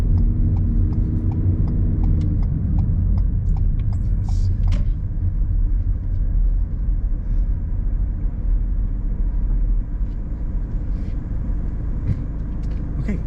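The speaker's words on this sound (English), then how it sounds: "Jess holds gear 1 for this entire stretch of road, which is not exactly eco-friendly" A car pulls along a stretch of road held in first gear during a mock driving test in Mill Hill, giving a loud, steady low engine drone that runs continuously close by, with a few faint clicks above it.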